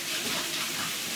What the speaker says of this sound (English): Wash our hands first.